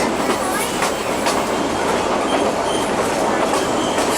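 A New Hope and Ivyland passenger train with a former dining car rolls steadily along the track, wheels clattering continuously up close with a broad, even rumble and no talk.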